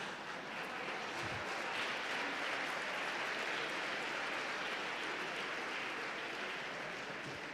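Steady, dense audience applause at a seminar on feminism and gender ideology in Chile, continuous and evenly sustained, heard from some distance at a fairly low level throughout.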